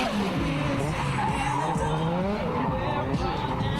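A car drifting under a limbo bar at a track event screeches with loud, continuous tire squeal over a roaring, revving engine, while voices are faintly audible beneath.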